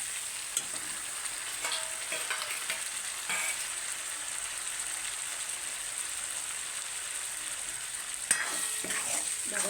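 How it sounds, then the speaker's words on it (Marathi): Tomatoes, peas and masala fry in hot oil with a continuous soft sizzle and crackle, punctuated by occasional stirring scrapes, close and moderately quiet. "तर टमाटे आणि वाटाणे मसाला फ्राय करून घ्यायचा आहे."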